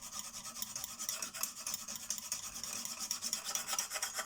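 A CK Viper knife edge is worked on a Lansky guided sharpener, a faint, quick scraping rasp of stone on steel repeating in steady back-and-forth strokes, alone and close.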